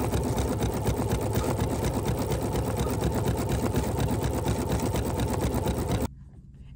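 An embroidery machine stitches out part of a design, a small appliqué arm, in a loud, fast, rhythmic needle chatter that runs steadily before stopping abruptly near the end, leaving a low hum.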